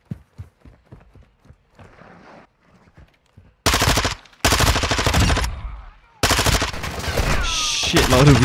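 Call of Duty DMZ gameplay: quiet, soft footsteps give way to loud, sustained bursts of machine gun fire, three long automatic volleys rattling close and harsh with brief gaps between them.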